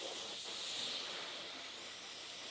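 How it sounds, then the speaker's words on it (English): Steady hissing spray of water from an OxiClean car wash sprayer on rinse mode, continuous and even throughout at close range, with no voices. "I'm just rinsing right now."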